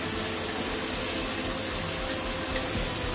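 Water runs steadily from a bathroom tap, a constant close hiss of flow with no pauses and no talking.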